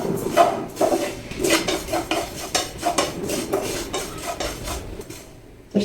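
Cumin, coriander and sesame seeds are dry-roasted in a pan. A spoon scrapes and clinks against the metal over and over in an uneven rhythm, the rattle of the seeds close and fairly loud, with no voices.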